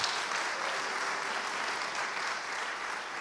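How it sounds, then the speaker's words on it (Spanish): Congregation applauding during a church service, a soft, even patter of many hands clapping at a distance, sustained throughout without a break. "Denle un aplauso al Señor Jesucristo, hermano"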